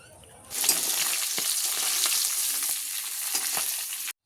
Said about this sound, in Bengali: মাছগুলোকে চলো চটপট করে এখানে ভেজে নিই